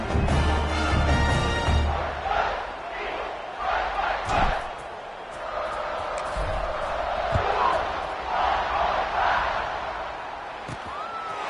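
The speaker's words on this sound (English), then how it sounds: "this crowd is feeling themselves after that last drive" A college football stadium crowd cheering after a touchdown drive as the kickoff unit takes the field, a broad sustained roar with rising yells and swells, while an announcer talks over it.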